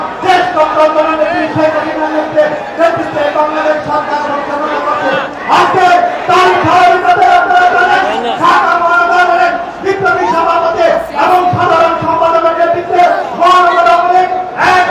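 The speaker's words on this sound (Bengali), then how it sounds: "এই সমাবেশ স্থল কানায় কানায় পরিপূর্ণ করেছেন এবং স্লোগান দিচ্ছেন তারা" Awami League activists at a packed Dhaka rally chant slogans in loud, rhythmic unison, a large crowd of voices rising and falling in repeated call-and-response phrases that carry across the gathering.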